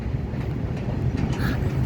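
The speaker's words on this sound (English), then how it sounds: "We will wait here till the train finishes." A moving goods train passes close by in Bangalore, heard from the roadside near a bike, giving a steady heavy rumble with faint rail clatter throughout.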